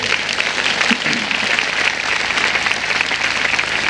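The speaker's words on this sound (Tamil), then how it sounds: "நன்றாக கைதட்டுங்கள்" Steady, loud applause from a large church congregation, continuous clapping filling the whole stretch without pause.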